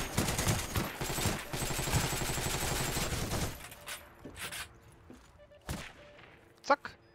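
Rapid bursts of gunfire in the video game Heroes & Generals rattle for several seconds, followed by a few scattered single shots and quieter clatter.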